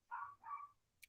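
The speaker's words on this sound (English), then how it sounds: "I'm checking y'all to see what Cookie's barking at" A dog gives two quick barks or yips of moderate loudness a short distance off, followed by a couple of brief sharp clicks.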